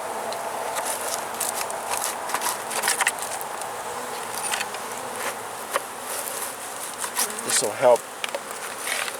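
Close, continuous buzzing of many honey bees in an opened hive in February, with scattered sharp clicks and brief handling noises; a few quiet words are spoken partway through.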